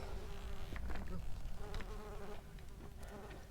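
Bumblebees buzzing close by on a mountain hiking trail to Snow Lake, a steady droning hum that rises and dips as the insects move, with no talking.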